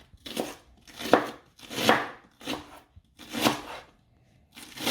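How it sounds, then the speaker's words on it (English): A knife chops through cabbage into chunks on a cutting board in distinct bursts of crisp, crunchy strokes with short pauses between them, close and fairly loud, with no talking. "you get your cabbage, chop it up into some chunks"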